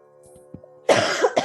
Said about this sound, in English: I have to apologize for my dodgy throat and cough again.